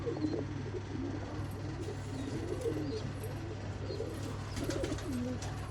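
Pigeons coo steadily in a seller's loft in Bangalore, with repeated soft, low cooing calls from several birds over a constant hum.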